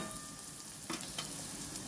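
Onions sautéing in a pan for Kathiyawadi dhaba-style urad dal: a soft continuous sizzle with a few brief stirring scrapes near the middle, heard close and alone without talk.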